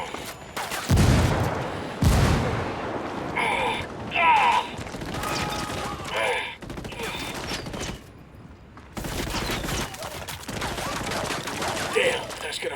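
A frag grenade blast and bursts of gunfire from the tactical shooter Ghost Recon Wildlands, with loud booming impacts and rattling fusillades coming in waves, gaps of quieter ambience and mechanical clatter between them.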